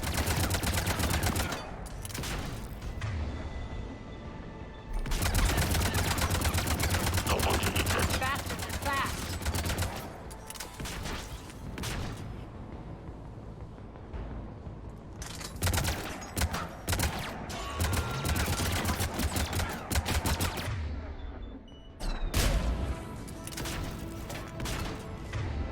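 Heavy gunfire with anti-armor rounds in Mass Effect 3 comes in dense, loud automatic bursts with short pauses between volleys. Battle noise and impacts sit under some talking.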